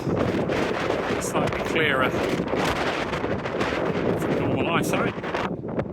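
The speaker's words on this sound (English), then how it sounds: "Windy, but not bad." Strong wind on the hills near Nine Standards Rigg in the Yorkshire Dales buffets the microphone in a continuous roaring gust while someone speaks briefly underneath it.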